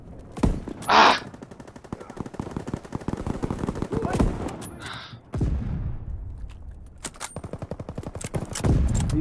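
Rapid-fire gunshots in a World War II shooter game, with dense bursts of automatic fire and sharp individual cracks going on and off, mixed with brief shouts and other game sounds.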